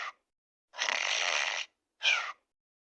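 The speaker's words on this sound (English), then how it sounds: "he's actually snoring like Mario." A person snoring in a comical Mario-like way: three separate breathy, nasal bursts, one short, one long and sustained, then another short one, each divided by silence, close and fairly loud with no talk.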